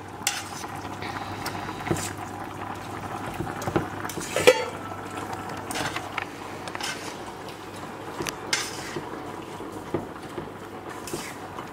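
Steady bubbling rumble of water boiling in an electric kettle, continuous and close, with occasional light clinks over it.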